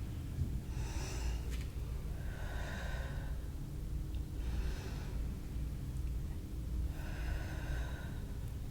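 Slow yoga breathing in an anxiety-easing class: four soft airy inhales and exhales spaced a few seconds apart, close and gentle over a steady low room hum, with no speech.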